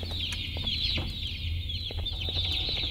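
Chickens cluck in the Garten of Banban 2 video game, several birds with overlapping short clucks and squawks at a steady, fairly loud level, along with a constant low game hum.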